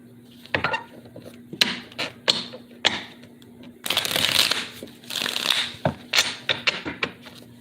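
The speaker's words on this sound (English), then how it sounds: "One more shuffle." Tarot cards are shuffled in several quick riffling bursts, close and crisp, separated by short pauses and light taps.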